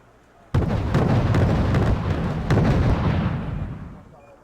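Missile launch in the strategy video game Wargame: Red Dragon: a sudden loud blast followed by a sustained roaring rumble that tails off over several seconds.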